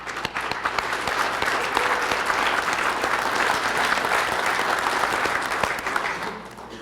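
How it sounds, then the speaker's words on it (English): A large audience at an aerial firefighting operations summit bursts into steady, sustained applause, a dense wash of clapping hands that holds for several seconds before tapering off at the end. "I'd like to just give one final round of applause to our vendors, to Colorado Mountain College, our local supporters, and our speakers here."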